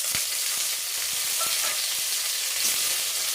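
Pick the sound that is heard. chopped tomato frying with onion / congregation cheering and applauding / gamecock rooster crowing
chopped tomato frying with onion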